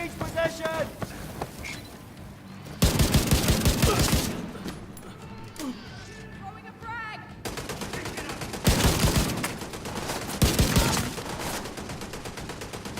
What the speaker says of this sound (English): Oh no, the turret is firing randomly